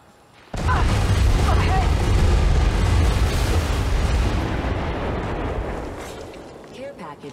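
A thermite grenade erupts in Apex Legends Mobile with a sudden loud burst, then a sustained roaring, crackling burn that slowly fades over several seconds, with brief voice fragments on top.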